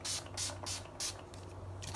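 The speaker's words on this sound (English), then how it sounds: "next I'm gonna spray my face with the Urban Decay Chill makeup setting spray" Urban Decay Chill makeup setting spray is misted onto a face in four quick, close hissing pumps, each a short airy burst, followed by a quieter pause.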